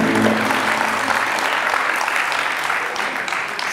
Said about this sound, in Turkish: Hadi alkışlıyoruz Gözde'yi.